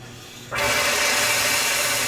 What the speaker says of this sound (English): I'll use CO2 to purge out the rest of that rinse water.